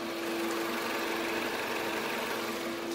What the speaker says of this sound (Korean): 이 차량 진짜 엔진음 들려드리면요